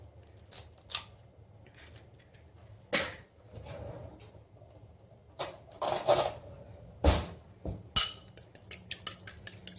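Two eggs are beaten in a bowl for zucchini muffins: a series of sharp clinks and scrapes from the utensil against the bowl, loud and irregular, speeding into a quick rattling run near the end.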